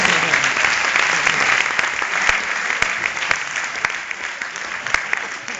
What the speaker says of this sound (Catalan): un xicotet d'aplaudiment per al Coi